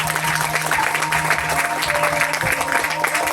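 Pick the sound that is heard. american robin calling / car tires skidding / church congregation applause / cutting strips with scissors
church congregation applause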